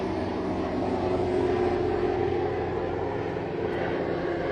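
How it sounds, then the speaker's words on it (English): A steady, droning rotor-engine roar fills the air overhead, broad and continuous without a break, holding a constant level throughout. "Oh yes, helicopter, an orange one."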